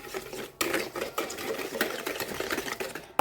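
Egg and sugar batter whisked by hand in a bowl, with rapid rhythmic clinking and scraping strokes that run close and fairly loud, with a short pause near the start.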